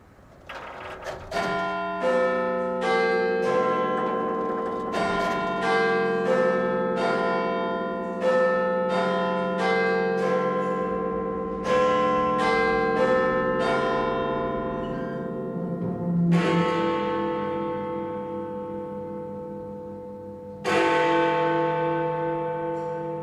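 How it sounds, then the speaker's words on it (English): The House of Commons clock chime rings out in a long series of resonant bell strokes, each tone ringing and decaying before the next, with later strikes entering loud and sustained, alone without talk. "the chime is tested to ensure it's within a second of Greenwich Mean Time"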